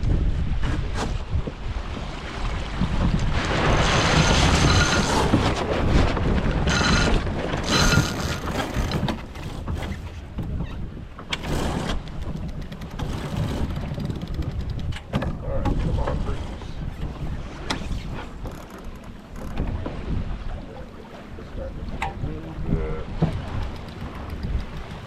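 A sailboat tacks during a race, with wind buffeting the microphone, water rushing along the hull and flapping, rustling noises from the boat. Loud and continuous throughout, with occasional voices in the background.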